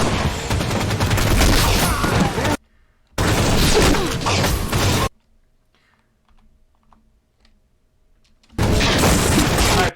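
Loud bursts of rifle gunfire and sniper shots from a Halo fan animation, two dense barrages separated by a brief gap, then near silence before a final burst.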